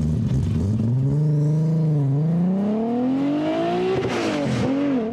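A car accelerates hard during a timed acceleration run, the engine note climbing steadily in pitch through the revs, dipping briefly at a gear change, then rising again, loud and close throughout.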